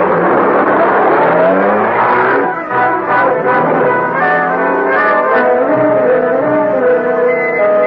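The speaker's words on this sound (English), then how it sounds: "The car. It's Shevlin's car." A car engine rumbles and revs loudly and steadily throughout as a radio drama sound effect, a sustained motor drone with shifting pitch that fills the scene with no voices over it.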